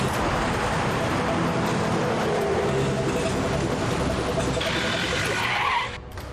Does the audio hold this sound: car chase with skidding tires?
yes